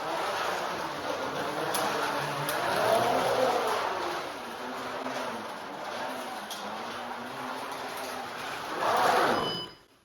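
A Corvette driving with tires striking the wheel interference produces a low, rhythmic growling rumble under road and cabin noise, swelling around the middle and again near the end before cutting off.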